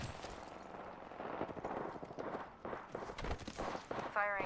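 Gunfire in Apex Legends: rapid automatic bursts and scattered shots mixed with movement sounds, fairly faint and uneven, ending in a short metallic rattle.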